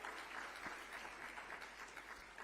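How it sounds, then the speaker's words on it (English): An audience at a RootsCamp 2025 plenary applauds Amy Pritchard, steady dense clapping that carries evenly through the whole stretch, no voices over it. "a round of applause for Amy"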